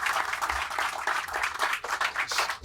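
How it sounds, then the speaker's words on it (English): Dense applause from a conference audience at Cannes, steady clapping filling the room for a few seconds without a break. "So how about a round of applause for our moderator and our panelists?"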